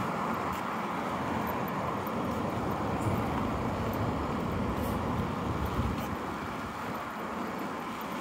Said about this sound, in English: This is always noisy area up here because so much cars going by on the road